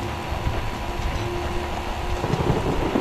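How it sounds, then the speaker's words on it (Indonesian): Steady rain pours down with a low rumble of thunder in the horror game Outlast, a dense, loud wash of noise that continues without a break and has no speech over it. "Ah, hujan."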